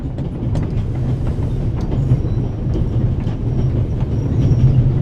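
A moving train in The Raven Remastered video game rumbles steadily with a continuous low clatter of wheels on track, heard alone and fairly loud throughout.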